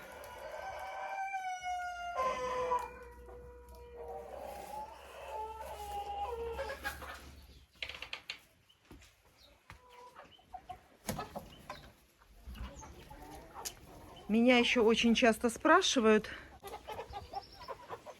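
Chickens and turkeys cluck and call at a farm enclosure, with intermittent bird sounds and a louder burst of calls toward the end, under a woman's speech.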